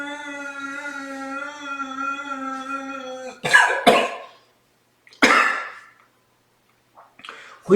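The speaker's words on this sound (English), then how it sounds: "When you develop cough, the cough is entirely normal from your Ujjayi Pranayama" A long hummed Ujjayi Pranayama breath tone gives way to several harsh coughs, spaced apart with short silences between them, close to the listener.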